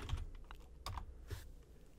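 Keyboard typing of a terminal command on a Raspberry Pi setup: a few quiet, scattered key clicks over a faint steady background, with no talk.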